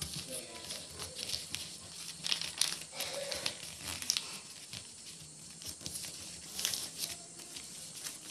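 Paper being creased and folded by hand into a carry bag, with soft crinkling and crackling handling noises throughout, fairly quiet and close, with no talk.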